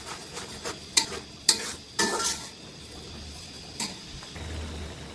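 Onions frying in a pan for a chicken roast, a low continuous sizzle broken by a few sharp utensil scrapes and clinks against the pan early on, then quieter frying, close up with no voices.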